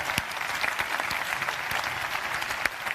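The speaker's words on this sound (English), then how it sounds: "can we give a huge round of applause for our delegate speakers and councillors?" Audience at a large international youth summit applauding speakers in a plenary session, a dense, steady wash of clapping with a few sharper individual claps standing out close by.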